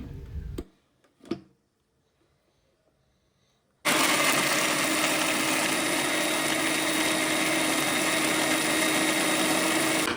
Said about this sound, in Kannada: ಇನ್ನು ಇದನ್ನೇ ಹೋಗಿ ಗ್ರೈಂಡ್ ಮಾಡ್ಕೊಂಬತ್ತೀನಿ